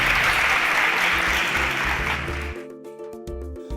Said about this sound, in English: Can we give a round of applause to Ose and Camara?